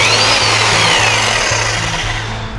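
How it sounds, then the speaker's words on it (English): A Titan 1300-watt SDS hammer drill breaks out concrete floor screed with a continuous loud, rapid hammering rattle, close up and steady throughout with no voices. "I think that's a 1300 watt Titan, and that's an SDS hammer drill."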